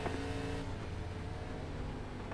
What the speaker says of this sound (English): I thought I heard his engine revving.